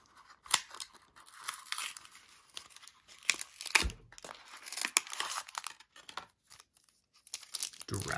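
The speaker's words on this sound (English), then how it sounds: "So let's rip and see what we can pull." Plastic and cardboard tear and crinkle as Pokemon Evolving Skies blister packs are ripped open, a close series of sharp rips and crumples with pauses between.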